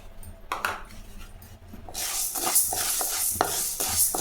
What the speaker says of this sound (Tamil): இதை நல்லா செவந்து வர மாதிரி வறுத்துக்கலாம்.